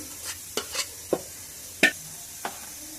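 A spoon stirs and scrapes mashed cooked beans in a pan in a home kitchen, giving about five short, separate scrapes with quiet gaps between them and no voices.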